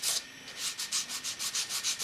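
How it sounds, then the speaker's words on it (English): Sandpaper rubbed along the cleats of a scale model to create a rust and road-wear effect, quick rhythmic scratchy strokes repeating about every quarter second, close and fairly soft, with no talk. "you can just go along here and sand the cleats just like real road wear"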